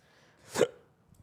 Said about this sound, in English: Sorry for the hiccup.